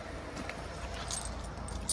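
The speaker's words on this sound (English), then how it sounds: "there's two ignition keys here" Two ignition keys for an automatic van, one for the deadlocked rear door, jangle close by in a short burst of bright metallic clinks over a low background rumble, with no talking.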